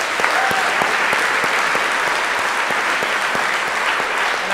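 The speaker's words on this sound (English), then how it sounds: "so let's give a round of applause to them" Steady, dense audience applause for a leadership team at a fast pitch event, many hands clapping continuously at even loudness throughout.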